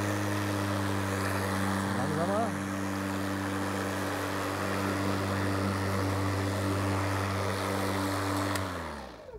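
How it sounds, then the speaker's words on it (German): A rotary lawn mower with roller drive runs with a steady engine drone while mowing grass, loud and close throughout, and the engine winds down at the very end. "den Sichelmäher mit Walzenantrieb und mähen nochmal direkt daneben eine Spur"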